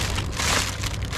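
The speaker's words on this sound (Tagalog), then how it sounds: "Ang ulan." Dense, steady rain patters across the whole brief moment as a constant close hiss of drops, with no voices over it.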